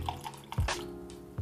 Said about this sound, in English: First, we're going to pour about half the glass